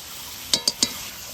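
Spices are fried with onion and tomato in a pan while chicken skin and tender corn are being cooked. Three quick clinks of a spoon against the pan stand out over a faint, steady background.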